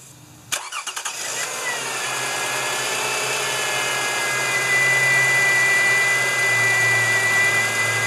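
A 2011 Toyota Sienna engine cranks in a short burst of rapid starter pulses, catches, and settles into a steady, loud idle that continues with a constant hum.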